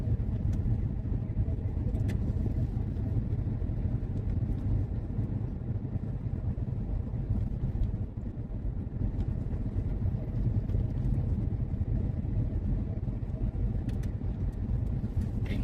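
A bus pulls in to park near Kings Park in Perth, its engine giving a steady low rumble with faint road and wind noise throughout and no clear speech.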